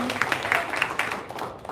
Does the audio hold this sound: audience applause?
yes